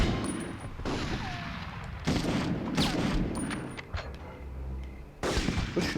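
A grenade blasts in the Call of Duty video game amid heavy gunfire, with sharp, booming bursts that crack out over a continuous rattle of shots and battlefield noise.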